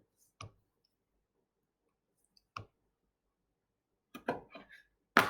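A pen clicked a handful of times while struggling to write: isolated sharp clicks spaced apart, then a quick cluster of clicks near the end, in an otherwise quiet room.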